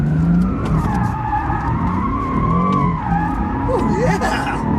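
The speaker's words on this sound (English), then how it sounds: "give it more gas until the rear starts to slip, and then we can control the slide" An automatic car drifts with its rear tires sliding, a loud continuous tire squeal and revving engine that hold steady for several seconds, with pitch sweeps near the end.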